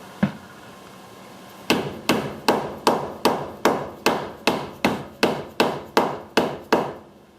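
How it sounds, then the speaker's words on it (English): A hammer strikes rain-deflector tape on a small 5 by 10 teardrop camper: after one early tap, about fourteen sharp, evenly spaced blows ring out close and loud in a steady rhythm. "Get a bigger hammer."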